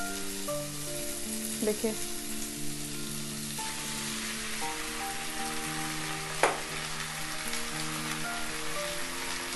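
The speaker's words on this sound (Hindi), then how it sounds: "अब इसमें हम डालेंगे वो बचा हुआ जो चावल रखे थे ना धो के, वही चावल डालेंगे" Washed leftover rice fries in a pan for rice upma, a faint continuous sizzle under steady background music, with a brief word spoken and a couple of utensil clicks.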